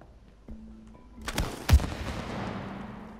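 Synthetic gunfire in the game It Takes Two: a few sharp shots build to one loud blast, followed by a lingering rumble and tonal hum.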